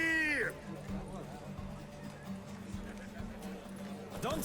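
A horse gallops during a race in Witcher 3, rhythmic hoof clip-clops under a voice, with a brief whinny-like sweep at the start and end.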